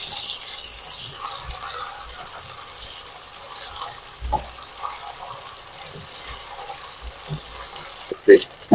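Onions fry in a pan with ginger and garlic added, giving a soft, steady sizzle broken by occasional scrapes and knocks of stirring.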